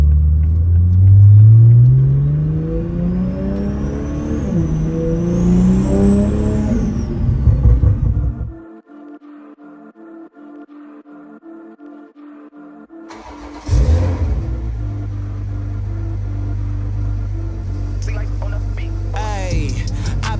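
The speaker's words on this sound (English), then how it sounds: "So, you want to hear what T51R sounds like?" A Toyota Supra MKV with a T51R turbo revs hard in a loud, drawn-out climb, whistles at the top, then drops to near silence before the engine fires back up with a sharp burst and settles into a rumbling idle.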